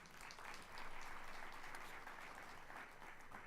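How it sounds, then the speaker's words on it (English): An audience at a College of Education teacher and principal panel gives a round of applause, faint and distant but steady clapping for several seconds. "So one more round of applause for Dean Metcalf and team."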